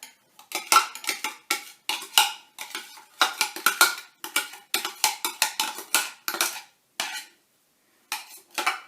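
Pulled pork being mixed with metal utensils in a bowl or pan, a brisk series of close clinks and scrapes in irregular bursts, with a brief pause near the end and no talking.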